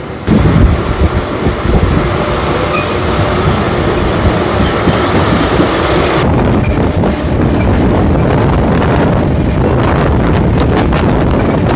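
Howrah–Digha line local train running, heard from on board as a loud steady rumble of wheels on track with rhythmic clatter and wind buffeting, continuous with no speech.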